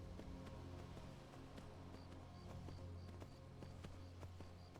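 Galloping horse hooves in Skyrim, a steady fast clip-clop rhythm under a constant low rumble of wind or ambience, moderately near throughout.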